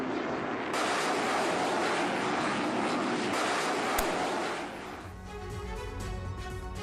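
An Israeli F-35 fighter jet supplied by the United States roars past loudly for about four seconds, the broad rushing noise then easing off into a quieter tonal background.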